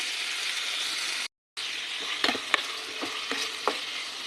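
Fatty meat sizzles in a hot pan with a steady, close frying hiss, broken by a brief cutoff, then several scraping stir strokes as it cooks for a Filipino mung bean dish.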